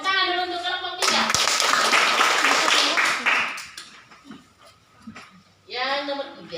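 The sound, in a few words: class clapping for group 3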